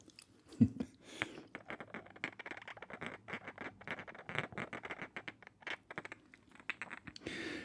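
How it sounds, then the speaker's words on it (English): Salt and pepper shakers shaken and scraped together at a breakfast table, making dense, close, quiet rattling patter and gritty clicks in rapid irregular bursts, with a sharper knock near the start. "These shakers are so... They make the coolest sounds"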